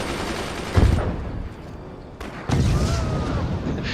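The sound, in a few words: sniper weapon firing in the Forts video game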